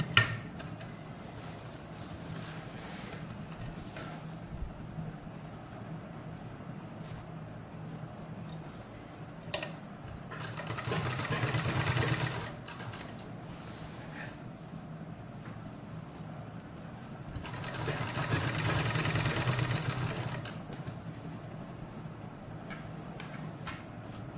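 A sewing machine stitching near a salwar pocket where a zip is being fitted, running in two sustained whirring bursts several seconds long separated by quiet handling, with no talking.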